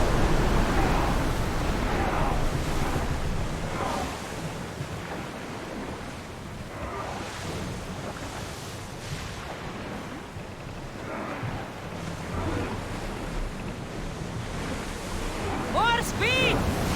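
Ocean waves wash and wind blows steadily while a ship sails in Assassin's Creed Odyssey, a continuous broad surf roar under game voices and music, with a brief rising tone near the end.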